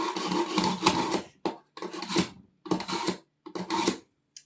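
A blade is sharpened at the whetstone stage, following preparation and before polishing: four rasping strokes, each about a second long with brief pauses between them, loud and close, with no talking.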